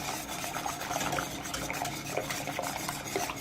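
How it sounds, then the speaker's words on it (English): Polenta being stirred vigorously in a pot, a steady close scraping and rubbing of the spoon against the thickening cornmeal, continuous and rhythmic with no talk. "I'm actually stirring quite vigorously because I don't want it to be lumpy"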